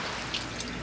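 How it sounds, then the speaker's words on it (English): A low stream of water runs from a sink tap into a basin, a soft, even splashing hiss with a faint drip, heard alone for under a second. "then you can turn the water on. Just low stream of water."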